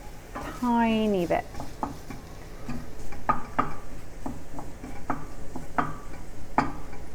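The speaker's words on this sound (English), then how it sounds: "Just want to brown off these onions" Onions browning in a frying pan, with a steady sizzle under repeated scraping and clicking strokes of stirring, close and fairly loud; a voice speaks briefly near the start.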